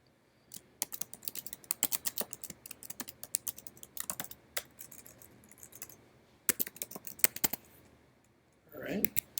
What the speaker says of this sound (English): I'm going to go ahead and put my password in on another screen so you guys can't see it.